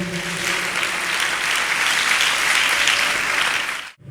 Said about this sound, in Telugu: చప్పట్లు కొట్టండి ఒకసారి సంతోషంగా.